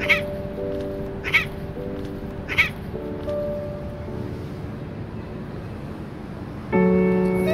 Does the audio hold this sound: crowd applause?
no